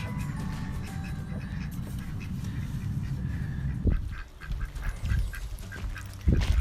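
Ducks at a mud bath pool on a Gurk duck farm, with a few short honking quacks rising over a steady low rumble of background noise, close by.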